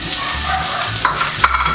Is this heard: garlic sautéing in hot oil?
yes